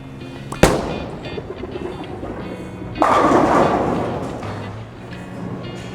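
A Roto Grip Attention Star S2 bowling ball thuds onto the lane, rolls with a low rumble, then crashes loudly into the pins a few seconds later before the clatter fades, with no talking.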